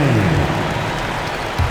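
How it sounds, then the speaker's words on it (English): A loud, continuous wash of crowd applause and cheering fills the arena in the basketball video game NBA 2K26, with a low rumble underneath. "Let's give a big round of applause."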